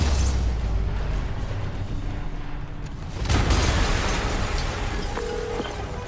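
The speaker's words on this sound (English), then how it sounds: "an explosion just... I saw it" Explosion in the Sony Spider-Man video game: a loud, broad rumbling blast that swells and surges midway, then settles into a sustained roar with lingering debris and ambient noise.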